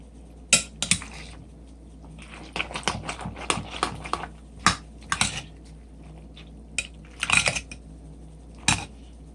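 Food stirred in a bowl with a utensil, a string of irregular clinks and taps against the dish, close and fairly crisp, with brief pauses between bursts.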